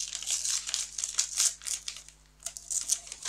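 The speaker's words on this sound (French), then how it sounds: "On va ouvrir la case de la fée du scrap qui aujourd'hui est une grande enveloppe." A large paper envelope from a scrapbooking advent calendar crinkles and rustles as it is handled and opened, close-up bursts of crisp paper noise with a brief pause midway.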